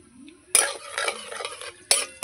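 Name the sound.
stirring panch phoron in hot oil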